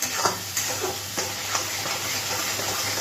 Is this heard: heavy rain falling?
no